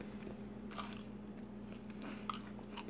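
A decorated Christmas tree cookie is bitten into and chewed, with a crisp crunch followed by soft, close, wet chewing and no talking.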